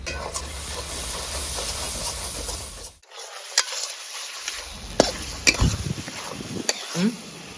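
Meat masala and chili powder fry in oil for a village-style chicken dish. A hissing sizzle opens the sound, then gives way to scraping and rubbing from a stirring spoon, with scattered sharp knocks near the pan.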